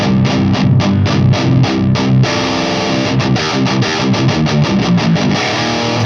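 A heavily distorted metal guitar through a Fryette Deliverance amp with a tube screamer in front plays loud, tight, palm-muted chugging riffs, with rhythmic stops and fast repeated chords and no voices.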